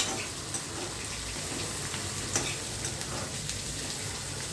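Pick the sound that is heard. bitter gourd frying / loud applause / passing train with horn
bitter gourd frying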